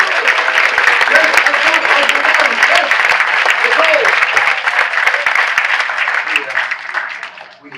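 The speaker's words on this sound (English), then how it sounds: "they give you a big round of applause" Big round of applause from an audience at a chamber of commerce appreciation dinner, loud, sustained clapping filling the room for several seconds before tapering off at the end.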